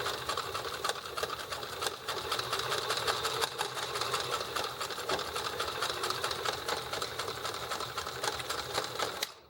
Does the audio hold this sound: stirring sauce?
no